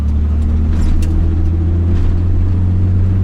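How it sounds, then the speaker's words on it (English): A classic Ford F-150 pickup truck engine with a sticking throttle runs at a steady idle-to-moderate roar, loud and close, with a low droning rumble throughout. "Let's see how the engine feels."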